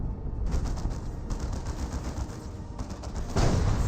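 Heavy, continuous battle fire from a Space Marine Predator tank pounding power generators in Dawn of War 2, dense rapid bursts of gunfire-like blasts with a louder surge near the end, no talk.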